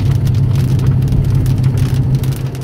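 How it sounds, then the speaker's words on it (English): Rain starting to fall on a hot, 105-degree summer day, a steady, dense patter of drops over a low continuous rumble, close and fairly loud throughout. "and now it's starting to rain."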